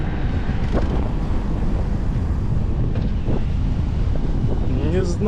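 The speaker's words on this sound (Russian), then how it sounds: "Ветер такой противный" Steady wind gusting on a seaside beach in Adler, Sochi in December, a continuous rushing roar buffeting the microphone throughout, with faint background sounds near the end.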